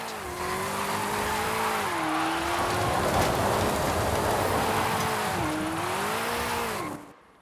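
Forza Horizon 5 car drifting in a continuous engine roar, with tyre squeal whining up and down through long slides. Loud and close, it runs steadily before cutting off abruptly near the end.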